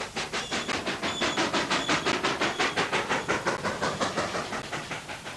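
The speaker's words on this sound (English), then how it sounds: "There you can watch the trains go by your bedroom window." A Zambezi Express train at a small desert halt, a steady rhythmic chuffing with about four beats a second, loud and near, running evenly with a hissing wash over it and no voices.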